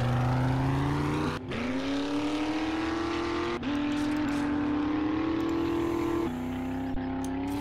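A car engine in the 7 Days to Die video game drones and revs steadily as the vehicle spins in circles, with several abrupt shifts in pitch, fairly quiet and with no talking.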